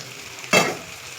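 Ripe tomatoes drop into a hot pan for chicken curry, setting off a sudden close sizzle that flares sharply and then fades over about half a second.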